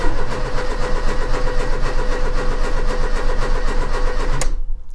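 A Ford Fiesta MK3 engine cranks and runs with a loud, close, steady mechanical churn before cutting off abruptly just before the end.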